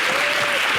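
Dense, close audience applause at a live television show, steady and loud throughout the brief moment.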